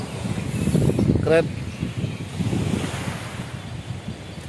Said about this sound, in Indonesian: Anginnya kencang banget di sini.